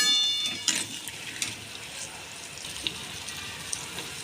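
Water goes into a pan of fried masala and matki (moth beans) for spicy misal: a short splashing pour at the start quickly settles into a faint bubbling, with a few small clinks.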